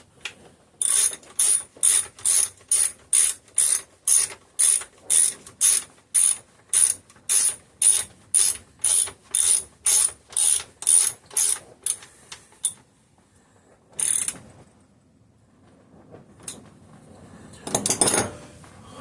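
A ratchet tightens a bolt on a Homelite 330 chainsaw with a fast, even run of about twenty close, crisp clicks, followed by a few scattered metallic clanks and rustles after a pause.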